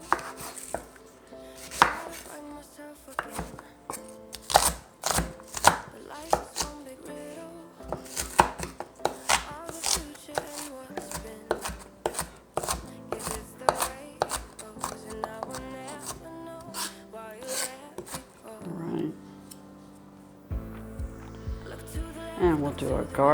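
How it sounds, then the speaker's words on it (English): Rapid, steady knife chops finely cutting an onion on a cutting board, crisp and close, with a voice talking over parts and a brief clattering near the end. "We're going to start with our onion, chopping that as finely as you like it."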